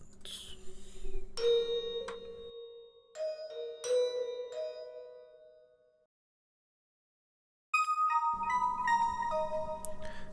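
A music box or bell patch from the Omnisphere synth plays bright, ringing single notes and short phrases with long decays, separated by a stretch of silence, and no one speaks over it.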